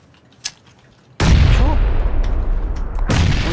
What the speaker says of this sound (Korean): 창고 수류탄 갑니다